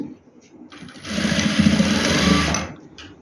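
A sewing machine runs a seam on a dress for a two-year-old boy, a close, loud whirring burst of rapid stitching lasting about a second and a half, with speech before and after.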